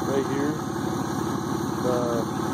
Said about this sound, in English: Idle drops down and then it starts running kind of rough.